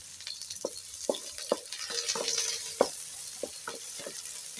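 Onions fry in a hot pan outdoors on a sunny day, a steady soft sizzle broken by repeated scraping stirs and clinks, close and fairly quiet with no talking.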